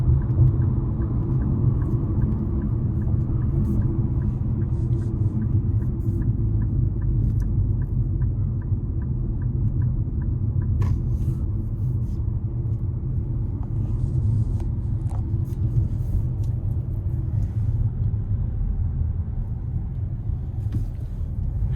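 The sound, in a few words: 2025 Nissan Kicks SR accelerating in sport mode onto interstate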